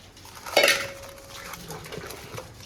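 Chopped, washed cauliflower is moved into another vessel with a sharp metallic clink of dishes followed by a ringing tone and a few lighter clatters.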